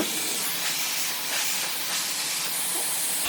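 A hair dryer blows steadily while a man's hair is styled for volume, a continuous close airy hiss with no talking.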